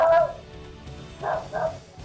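A dog barks in two bursts, one at the start and a pair near the end, fairly close and loud, over a low background hum, while voices talk at other points.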